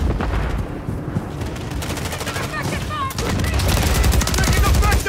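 Dense automatic gunfire in a Call of Duty Modern Warfare 3 multiplayer match, with rapid bursts that swell louder in the second half amid chaotic battle noise.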